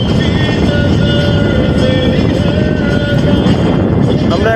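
A trawler boat motors along a river at the edge of the Sundarbans near Karamjal, Khulna, giving a loud, constant engine drone with a steady hum and wind rushing against the microphone throughout.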